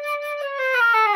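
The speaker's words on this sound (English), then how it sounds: "There's the sea flute, which sounds like this." A C flute plays a short, clear phrase of a few notes, the pitch stepping down slightly over about a second, alone with no voices.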